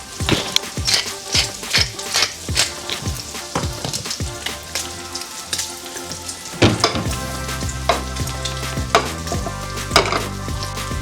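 Bacon and onions sizzle loudly in a frying pan, a steady crackling hiss broken by sharp pops and occasional stirring scrapes, close and continuous with no voices.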